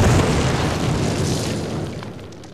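Explosives detonate against a cinder block wall in a Call of Duty training level, a single heavy boom that hits at full force immediately and then rumbles and decays over about two seconds.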